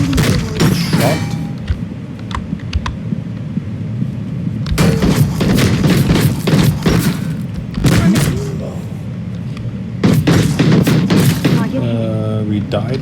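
Video game gunfire in a mission, heard as bursts of sharp, rapid shots and booming impacts in clusters over a constant rumbling background, with a voice speaking in between.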